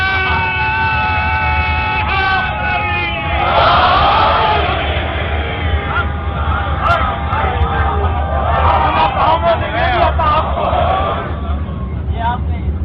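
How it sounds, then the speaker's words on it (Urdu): A crowd at a majlis chants a slogan in unison, a loud sustained roar of many voices echoing over a steady low hum and a droning tone, continuing for several seconds. "جب نعرے کی آواز آخر تک چاروں طرف گونجے گی"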